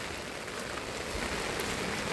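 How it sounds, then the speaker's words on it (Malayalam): Heavy morning rain pours down in a dense, even wash of drops on surfaces, continuous and close with no speech. "രാവിലെ തന്നെ മദ്രസയിൽ കൊണ്ടാക്കാൻ നല്ല മഴ"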